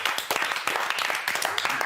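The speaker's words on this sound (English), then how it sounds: "No clapping, guys, remember when he comes out." Housemates on a live reality television eviction show clapping together, a brisk burst of hand claps close by that blends with chatter and voices throughout.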